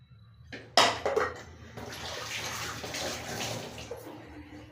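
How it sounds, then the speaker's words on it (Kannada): Water sloshes in a mixer jar and is poured into rice batter as a steady, close, splashing stream for several seconds, after a few knocks and clinks of the jar. "ಮಿಕ್ಸಿದೆಲ್ಲ ಚೆನ್ನಾಗಿ ತೊಳೆದ್ಬಿಟ್ಟು ಇದಕ್ಕೆ ಹಾಕೋಣ."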